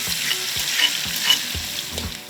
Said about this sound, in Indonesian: Tumis bumbu yang telah dihaluskan hingga harum.